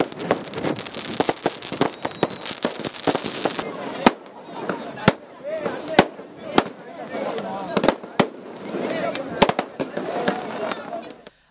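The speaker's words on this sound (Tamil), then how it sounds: "சிம்மக்கல் வைகையாற்று மேம்பாலத்தில் சுமார் அரை மணி நேரத்திற்கு மேலாக கண்கவர் வான வேடிக்கை நடைபெற்றது" Fireworks over the Vaigai river bridge at Simmakkal in Madurai during the Mamadurai festival, with dense crackling and sharp distant bangs popping irregularly over a continuous crowd murmur.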